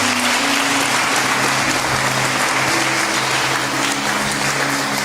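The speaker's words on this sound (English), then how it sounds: "Clap your hands for Jesus." A church congregation clapping hands together, a loud, continuous, dense roar of applause with a faint underlying hum and no pauses.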